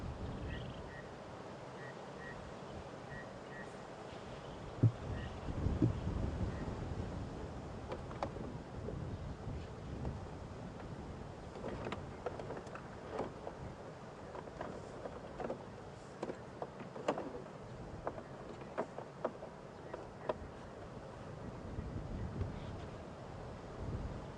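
Wind buffets the microphone on a damp, chilly morning safari drive, a low rumbling gust noise with scattered knocks and faint rustles throughout.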